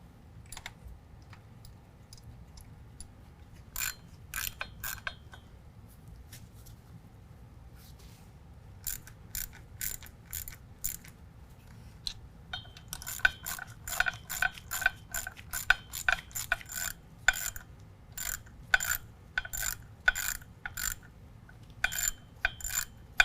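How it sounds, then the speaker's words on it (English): Ratchet clicks tightening the front drive shaft bolts on a 2019 GMC Sierra 1500 during a lift kit install, starting as a few sparse bursts and building into rapid, steady close-up clicking runs over low background hum. "We're going to tighten this down to 53 foot-pounds."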